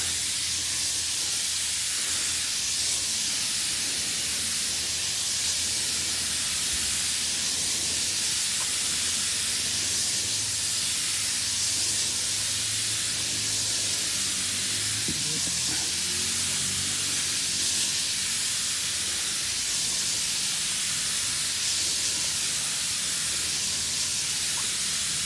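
A pressure sprayer hisses continuously as insecticide is sprayed over crops in the afternoon, a steady, fairly loud rushing spray with slight fluctuations throughout and no talking.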